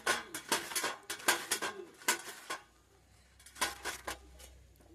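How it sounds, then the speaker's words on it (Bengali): A bottle gourd rubbed against a handheld grater in a home kitchen, giving bursts of quick rasping scrapes in uneven runs, a pause, then another short run of strokes, close and fairly loud. "এবার এরকম একটা গ্রেটার নিয়েছি গ্রেটারের সাহায্যে এই যে ছোটো ছোটো এই ছোটো সাইজটাই আমি সরু সরু করে গ্রেট করে নেব"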